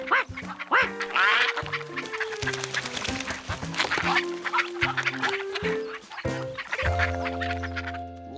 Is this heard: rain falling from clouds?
no